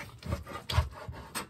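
A knife saws back and forth through a cooked garlic steak to cut it into strips. About four rhythmic rasping strokes sound close and moderately loud, with no talk.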